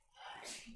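A single quick sneeze, close and fairly loud, with a sharp burst of breathy air.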